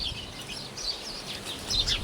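Small birds twitter noisily and continuously in a tree laden with fruit, their high, overlapping chirps close by and alone, with no talking.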